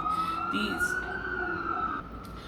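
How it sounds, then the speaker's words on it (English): A wailing emergency siren holds a steady rising tone in the distance, with traffic noise and a faint voice underneath. "these sirens keep going off"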